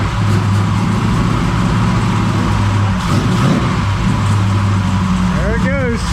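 A freshly built 496 engine in a 1969 Camaro runs loud and steady through its first start, with a rough, throbbing drone and a brief swell in revs, while people talk over it.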